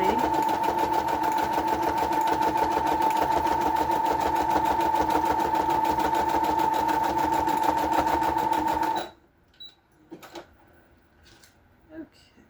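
A sewing machine stitching a tab index card with neutral thread runs in a fast, steady hum for about nine seconds, then stops, leaving a few quiet handling taps.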